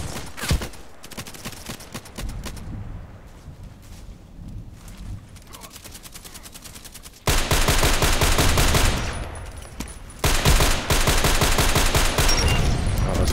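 Gunfire from a DT SRS sniper rifle in the online shooter Contract Wars, with scattered sharp shots early on, then loud dense bursts of rapid fire filling the later half, no talk over it.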